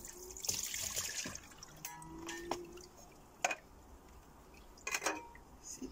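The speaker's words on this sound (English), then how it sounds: "So me just strain off the water." Water is strained off young jackfruit being prepared for a curry base, heard as quiet trickling and splashing with a few sharp pours and drips, close by.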